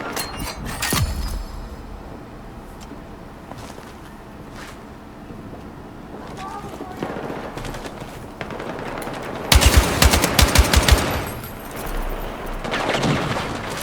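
Machine gun fire from a video game, Battlefield 6: several sharp, loud bursts of rapid shots, with the heaviest rattling volley near the end, set against ambient battlefield noise and scattered single reports.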